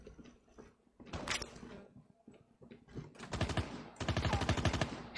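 Rapid automatic gunfire from Call of Duty Mobile battle royale: scattered light shots at first, then two dense, loud machine-gun bursts back to back near the end.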